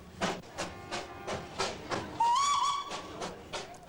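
A little hill train rolls straight down the middle of a town's main street, its wheels clicking in a steady rhythm, with a short wavering whistle partway through, heard fairly close.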